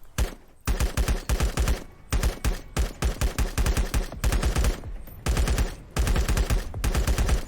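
AK rifle fire in the video game LifeAfter, loud close bursts of rapid automatic shots separated by brief pauses, repeating steadily throughout.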